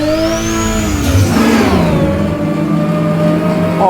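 A car engine in a racing video game revs hard and then drops, with a high transmission whine gliding down alongside the steady, loud engine drone.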